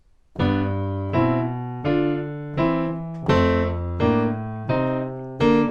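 Boogie-woogie piano riff played alone, about eight evenly spaced chord strikes repeating in a steady rolling pattern, close and clear.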